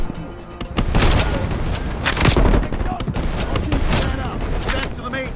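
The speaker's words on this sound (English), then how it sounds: "I need cover fire!" Dense gunfire from a Call of Duty Black Ops Cold War campaign firefight: rapid bursts and single shots crack loudly and continuously, overlapping with booms and shouted voices.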